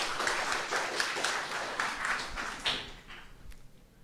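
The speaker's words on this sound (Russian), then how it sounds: "Аплодисменты" Applause from the audience at a programming conference greets a speaker, a steady patter of clapping that fades toward the end.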